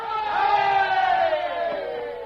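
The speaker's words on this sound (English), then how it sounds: "Give the colonel a cheer, boys!" A group of men let out a single loud, sustained cheer of voices for a colonel, a rousing shout that swells and fades over about two seconds.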